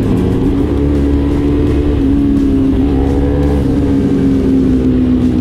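Superbikes race through a full lean turn, one overtaking wide, with a loud continuous engine drone and steady high-revving whine throughout and no speech.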